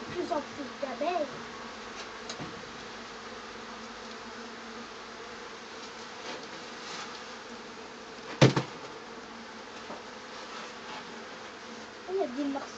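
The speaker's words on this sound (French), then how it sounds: "On a de plus en plus d'abeilles." Bees hum in a constant, dense buzz around a hive filling the background, with brief bits of nearby speech and a sharp knock partway through.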